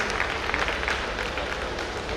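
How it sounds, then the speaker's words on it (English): Applause for the masters of ceremonies at a Rotary district conference in Mangaluru: steady, dense clapping from a large audience, holding at an even level throughout with no pauses. "Let's have for the Master of Ceremonies a round of applause for the way that they are conducting this program"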